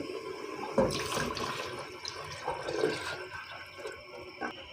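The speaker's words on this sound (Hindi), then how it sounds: "अब हम इसमें पानी ऐड करते हैं और फिर मसूर शामिल करेंगे" Water poured from a tap or vessel into a cooking pot of masoor lentils for dhaba-style masoor chawal, a short splashing gush with uneven bursts, close by and alone.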